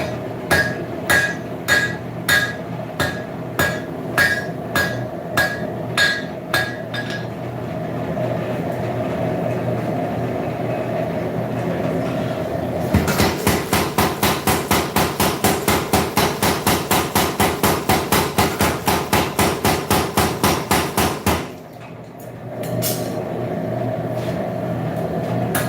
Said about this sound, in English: because I'm forging